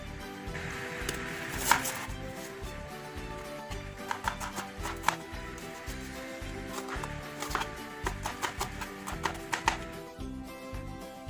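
An onion being chopped with a knife on a board, an uneven series of sharp taps and knocks, at times in quick runs, close and fairly quiet with no talking.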